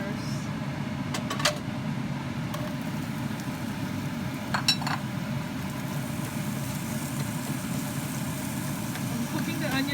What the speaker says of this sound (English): I'm cooking the onion until the aroma comes out.